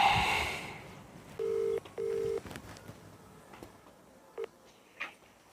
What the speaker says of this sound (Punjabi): ਸਰਪੰਚ ਨੂੰ ਵੀ ਕਰਤਾ ਫੋਨ ਯਾਰ